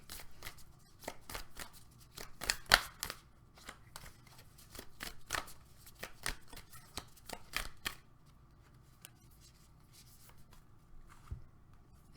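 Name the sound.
shuffling and pulling a Moonology oracle card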